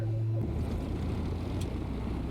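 Piston aircraft engine starting in Microsoft Flight Simulator 2020, a low steady tonal whine cutting off into a rough, throbbing low rumble that continues loud and close, with no talk.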